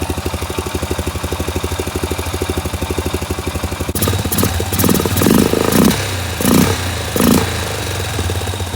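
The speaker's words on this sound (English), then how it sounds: "So as you saw, the four-wheeler runs." 2003 Honda Rincon 650 4x4 ATV engine running close by, first a steady rhythmic idle, then louder clattering bursts as the throttle is blipped.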